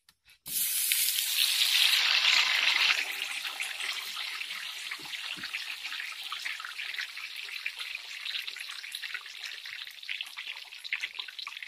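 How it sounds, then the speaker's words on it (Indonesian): Cassava pieces dropped into hot cooking oil, a sudden loud hiss that settles into a steady, even sizzle of frying, close and continuous with no talking. "Kita panaskan minyak sobat, lalu kita goreng."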